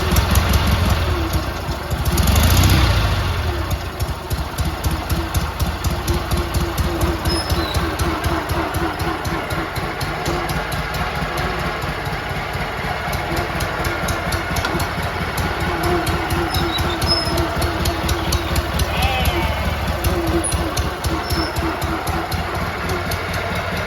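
A big riding lawn mower engine idles steadily after repair, a loud, continuous low rumble with a regular pulsing beat and a brief surge near the start.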